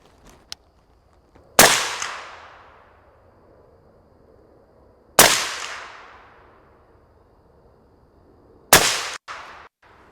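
Three loud, sharp rifle shots from a 6 ARC gas gun rifle, evenly spaced about three and a half seconds apart. Each crack is followed by a long fading echo, with a few soft clicks from the action and no talk.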